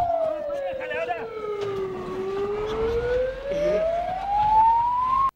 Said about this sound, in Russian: Поступил тревожный сигнал.